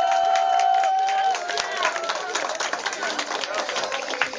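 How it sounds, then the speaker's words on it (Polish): Children and adults clapping for the winning team at an outdoor children's day event in Chlebowo, a lively burst of scattered applause mixed with crowd chatter and voices throughout. "Gorące brawa dla zwycięzcy!"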